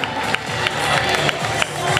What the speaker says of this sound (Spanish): Fuerte el aplauso para este vencedor